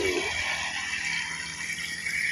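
Water poured onto young vegetable seedlings in a farm field makes a steady, close splashing hiss that runs unbroken for a couple of seconds with no talk.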